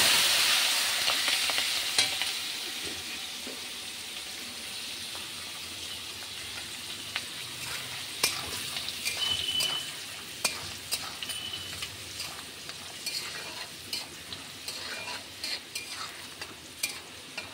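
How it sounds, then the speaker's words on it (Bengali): Chickpeas and peanuts frying in a pan with steady broadband sizzle and repeated clicks and scrapes of stirring, continuous and fairly close throughout, with no voices. "ছোলা বাদামটা ভালো করে ভেজে নেব"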